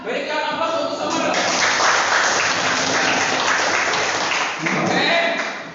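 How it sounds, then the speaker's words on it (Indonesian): Classroom applause for a student named Samuel after his presentation, a steady dense wash of clapping from a group lasting several seconds, with a brief dip near the end before it swells again. "coba kita berikan aplaus untuk Samuel"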